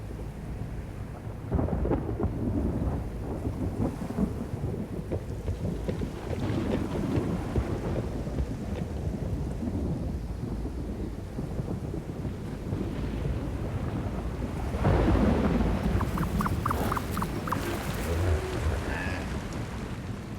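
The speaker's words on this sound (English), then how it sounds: "a storm is approaching." Thunderstorm with rolling thunder and steady rain, wind buffeting the microphone throughout; heavy low rumbles build and swell, growing loudest near the end, with no voices.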